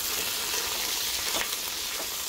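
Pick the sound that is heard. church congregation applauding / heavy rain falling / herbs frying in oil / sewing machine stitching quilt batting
herbs frying in oil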